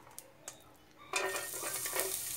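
Garlic tipped into a pan: a couple of soft knocks, then a sudden burst of close sizzling that keeps crackling with light stirring, no voices.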